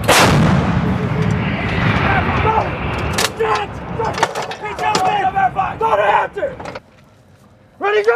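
An M777 155 mm towed howitzer fires during a live fire drill, opening with a huge, close booming blast that rumbles and decays for seconds. Crew members shout commands over the echoing tail, which ends in a near-silent gap before noise returns.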